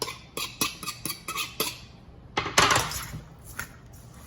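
A spoon clinks and scrapes against a cooking pot while garlic, onion and scallion are stirred into a Jamaican red peas soup. A run of quick, close metallic taps is followed by a louder scraping burst and scattered clinks.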